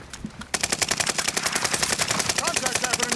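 Rapid, sustained automatic gunfire crackles in a tight rhythmic burst during a video game shootout, preceded by a brief quieter moment, with players' voices faintly underneath.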